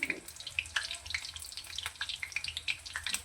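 Green chili sizzling and crackling in hot oil for sambar vada, a close, steady patter of small pops and spits with no voice.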